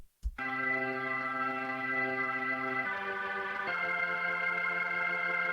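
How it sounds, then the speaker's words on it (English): A sustained Hammond B3-style organ sound, triggered by pressing the sustain pedal, holds full, rich chords after a short thump, shifting to new chords twice without pause. "when you press down the sustain pedal, it gives you a B3 sound."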